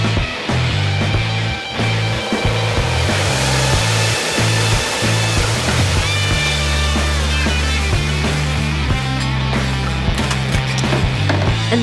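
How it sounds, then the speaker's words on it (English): A magnetic tumbler packed with metal needles cleans cast brass buckles, giving a loud, steady mechanical hum with a dense, continuous rattling hiss layered over it throughout. "it is placed in a special magnetic flutter where many metal needles remove the oxide coating"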